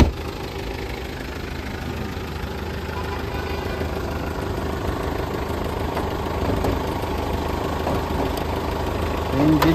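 A 2002-model nine-seater diesel vehicle idles nearby with its hood open, giving a steady, unbroken low rumble and mechanical clatter that holds even throughout.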